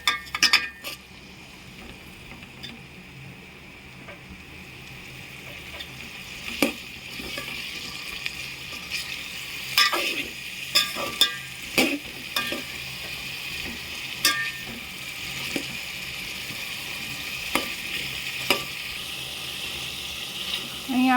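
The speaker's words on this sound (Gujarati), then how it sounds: "હવે ને આપણે આવી રીતના હલાવી નાખશું." A drumstick and potato curry with garlic chutney is stirred in a pan, giving irregular scraping and clinking knocks over a low, steady cooking hiss, with no talking.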